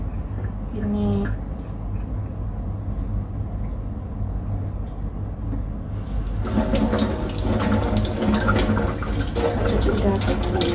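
Ingredients for a Chinese-style health drink are rinsed under a running tap, water splashing steadily and growing louder and brighter partway through as the flow strikes them in a sink.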